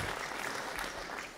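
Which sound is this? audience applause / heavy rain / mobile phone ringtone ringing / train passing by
audience applause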